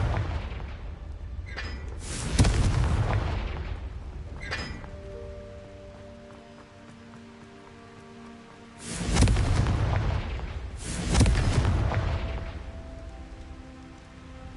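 Confringo spells burst in Hogwarts Legacy as several loud booming fiery explosions spaced seconds apart, each rumbling and fading into quieter ambience, with no talking.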